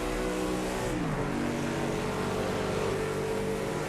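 NASCAR stock car engine in Project CARS 2, a loud continuous close roar with the pitch dropping and then climbing again as the car shifts up into fourth gear, with no talking.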